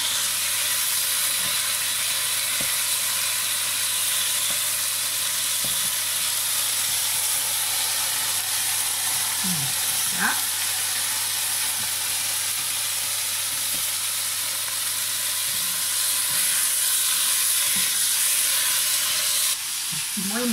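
Shrimp sautéing with greens in a hot pan give off a steady, soft hiss and sizzle that runs continuously, close by, with occasional faint clinks and no talk.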